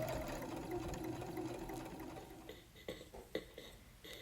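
Sewing machine edge stitching around the edges of a men's shirt collar, a steady continuous mechanical whir for about two seconds, then stopping into a few sparse clicks and handling taps.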